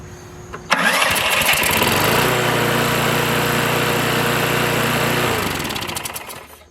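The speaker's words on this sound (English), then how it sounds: "If it's a good lawnmower, it'll start on the first pull." A Lawn-Boy lawn mower engine catches on a pull, roars up to a loud steady run, then winds down near the end.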